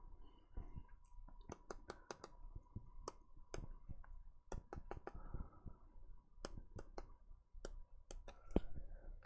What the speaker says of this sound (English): Grab the calculator and type it in.